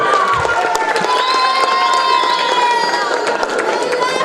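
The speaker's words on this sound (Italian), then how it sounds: "Complimenti, un applauso alla Prof Claude" A loud crowd cheers and claps at a school awards event in Italy, dense shouting and whistling voices with scattered clapping underneath, sustained throughout.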